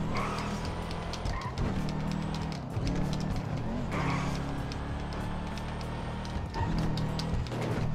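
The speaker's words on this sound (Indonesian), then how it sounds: "Wih gila efek nosnya sumpah gua seneng." Nissan Skyline GTR R34 in GTA V roleplay running full nitrous boost at speed, a steady loud engine roar with bursts and tire noise throughout, with no talk over it.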